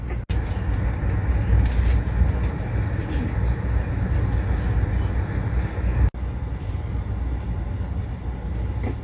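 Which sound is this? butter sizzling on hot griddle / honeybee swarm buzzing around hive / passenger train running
passenger train running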